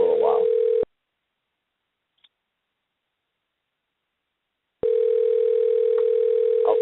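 Ringback tone of an outgoing telephone call placed from a radio station studio: two long, loud, steady electronic rings separated by several seconds of silence.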